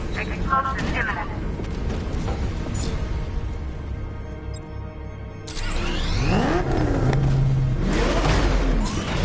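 An explosion at Ace Chemicals in Batman Arkham Knight erupts as a loud, sudden boom with a rolling rumble, following game speech and layered over engine-like roaring and in-game effects.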